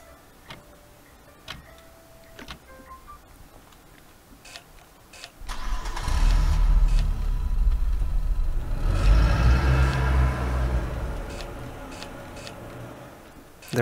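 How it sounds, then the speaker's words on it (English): Truck engine in a convenience store game cranking to life after a few clicks and ticks, then rumbling loudly and steadily as it drives away. "There goes the truck."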